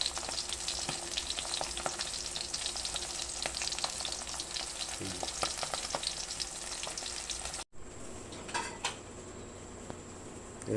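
Salmon belly fries in a pan with a loud, continuous crackling sizzle, then after a brief cut the frying carries on more quietly, with an occasional clink of a utensil.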